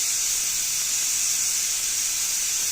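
A pressure cooker boiling chana dal hisses steam in a steady, sharp, unbroken jet, close and fairly loud with no talking.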